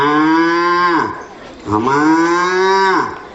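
A calf moos twice, close and loud. Each call is a long, drawn-out bellow of about one to one and a half seconds, separated by a short pause.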